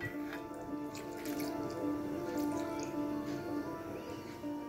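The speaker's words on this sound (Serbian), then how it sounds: "Da sipam malo mlijeka, ja sam mlijeko malo ugrijala." Warmed milk poured steadily into a breakfast bowl in a home kitchen, a continuous close liquid trickle with light dripping, no talking.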